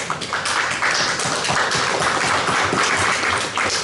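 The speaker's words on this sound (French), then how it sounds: "Et une bonne applaudissement pour vous autres." An audience applauding at a town council meeting, a loud, dense clatter of many hands clapping continuously for about four seconds with no voices over it.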